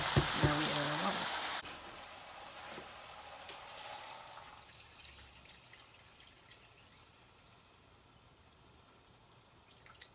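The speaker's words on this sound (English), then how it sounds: "I'm gonna go fill up one of these bowls with water" Water pours from a tap into a bowl of coated beans in a home kitchen, a loud hissing stream for under two seconds, then fainter trickling and dripping that fades away.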